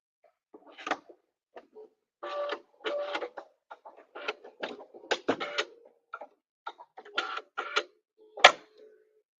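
A sewing machine running a decorative star stitch, heard close up as short bursts of rapid mechanical stitching that start and stop with brief pauses and no talking.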